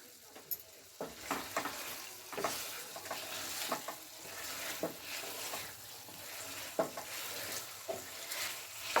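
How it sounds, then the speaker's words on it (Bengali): Chicken with masala and chopped green chillies sautéing in a pan, a steady sizzle and frying hiss broken by repeated scraping stirs of a spoon, close and moderately loud with no talking. "দিয়ে আমি হালকা হাতে আবার কষাচ্ছি"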